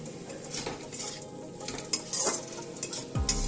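A spatula stirs banana stem and potato curry in a pan. Repeated scrapes and light clinks sound over a gentle sizzle, close and fairly quiet, with a louder knock near the end.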